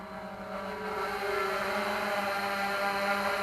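A 3DR Solo quadcopter drone hovering nearby, its propellers giving a steady, whining buzz with a strong tonal hum and rushing wind that swells slightly louder partway through, with no voices.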